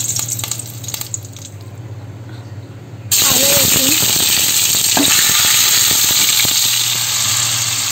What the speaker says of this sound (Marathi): आता आपण फोडणीला टाकणार आहोत कढीपत्ता